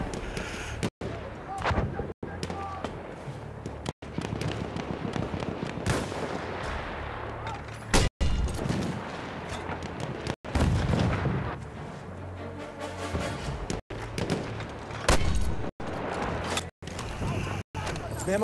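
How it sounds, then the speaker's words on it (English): Mortar rounds and other gunfire boom and crack again and again through a Battlefield 1 conquest match. Dense, loud battle noise fills the scene, with voices talking over it. "I love my fucking mortar gun"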